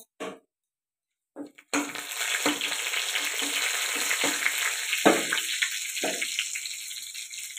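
Cumin seeds and bay leaf hit hot oil with a sudden loud, steady sizzle that continues unbroken after a couple of brief clinks, close and without any voices.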